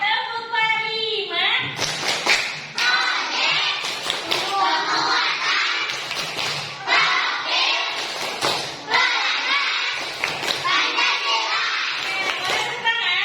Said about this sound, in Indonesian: anak-anak supaya lebih semangat kita tepuk dulu ya. Siap. Sekarang kita akan melakukan P5, jadi kita tepuk P5 bisa?